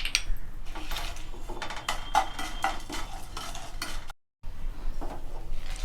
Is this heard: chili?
yes